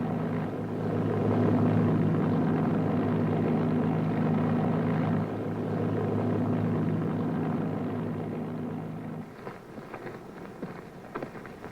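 WWII fighter planes of the 357th returning to their airfield: a loud, steady propeller-engine drone holding for several seconds, then cutting off and giving way to scattered quieter knocks and movement.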